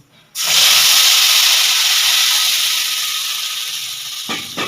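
Ginger, onion, green chili and garlic paste hits hot oil already tempered with nigella seeds for a Bengali rohu fish curry, bursting into a loud, steady sizzle that slowly eases, with a small clatter near the end.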